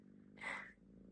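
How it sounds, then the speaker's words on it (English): A sleepy cat's purr rises briefly near the middle of the clip, soft and close, with no talking. "if you can hear any purring while in that clip, this was Pecan."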